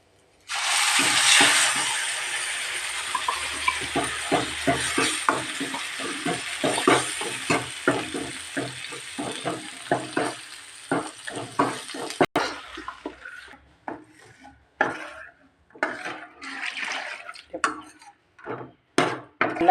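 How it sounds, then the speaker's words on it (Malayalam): Drumstick leaves fry over a low flame with a bright crackling sizzle, while a spoon repeatedly scrapes and stirs them in a quick rhythmic series of clicks and knocks that thins out toward the end. "ഇങ്ങനെ ചെറിയ തീയിലിട്ട് മൂപ്പിച്ചെടുക്കണം"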